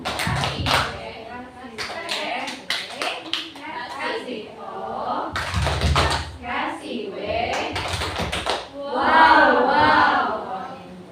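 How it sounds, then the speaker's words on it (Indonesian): A school class performs the 'tepuk wow' clapping chant for a teacher, rhythmic bursts of group claps mixed with chanted voices, loud and close, repeated in several rounds with a lively crowd feel. "Beri tepuk wow untuk Ibu Isna."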